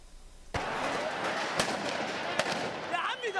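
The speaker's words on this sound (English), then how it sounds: "Gunfire outside the presidential palace in Cairo last December." Gunfire outside the presidential palace in Cairo: sharp distant bangs punctuate a loud, noisy outdoor scene, a couple of distinct cracks over a continuous rumble of crowd and commotion.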